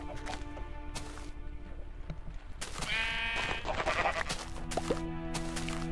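Sheep in the Minecraft video game bleat repeatedly, with several overlapping tonal calls close by. They sound over a busy bed of game noise, soft plops and clicks.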